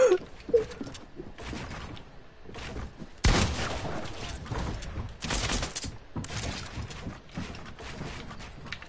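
Gunfire in a video game: sharp bursts of shots come in irregular clusters, some loud and close, with gaps of near silence between volleys.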